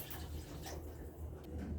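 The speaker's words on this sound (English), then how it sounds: "The water is not enough, so I'm going to add more." Water poured steadily into a pot of native ogbono soup, a continuous close rushing splash with no talk.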